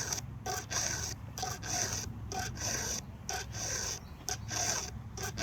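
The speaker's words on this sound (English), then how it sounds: "They call this in Espanol a filo, file in English." A hand file rasps along the chain of a Stihl 362 chainsaw to sharpen it, the strokes coming close and fairly quiet in a regular back-and-forth rhythm with short pauses between them.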